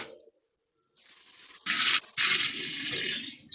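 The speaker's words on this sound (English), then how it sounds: "We have a sprayer in here." Water from a bathroom sprayer: after a short silence, a steady hissing spray starts and runs with small surges and one brief dip before trailing off.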